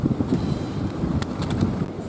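Blustery wind buffets the microphone in a low, rumbling roar, with a few brief higher rustles, outdoors during metal detecting with a Deus detector.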